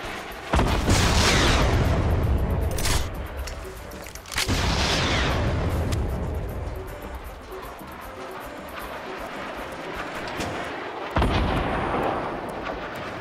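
Rapid bursts of video game gunfire, loud and close, with heavy booming shots and dense crackling volleys that swell and fade across the span, alone without talk.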